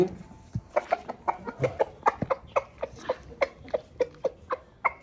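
A fighting rooster clucks repeatedly at close range, a rhythmic series of short throaty calls with a brief low voice at the start.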